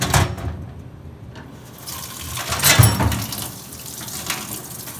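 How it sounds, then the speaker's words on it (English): Hot water runs steadily from a tap with a broadband hiss, surging briefly louder partway through, with no voices. "we need to add some hot water"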